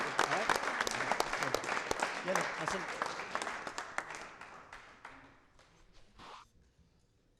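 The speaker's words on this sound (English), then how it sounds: "So please, a big round of applause" A crowd claps loudly at a cricket match closing ceremony, the applause gradually thinning and fading out, with a few words spoken near the end.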